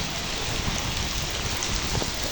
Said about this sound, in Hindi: ये देखें आज की बारिश, वाह वाह ज़बरदस्त